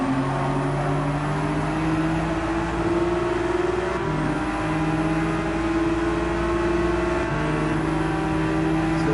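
Ferrari race car engine in Gran Turismo 7 during a free practice lap, holding a steady droning whine with shifting tonal pitch and brief revving changes, loud and continuous, with no talking.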